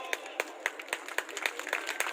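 An audience claps irregularly and continuously while welcoming Chhattisgarh Chief Minister Bhupesh Baghel at Amartapu Dham, Motimpur, with sharp hand claps spread through the crowd.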